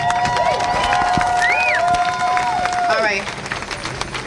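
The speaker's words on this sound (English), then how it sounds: "give him a round of applause" A street protest crowd in New York applauds a speaker. Clapping and crowd noise run under a voice, and sharp whistles rise and fall above the clamour before the noise thins out.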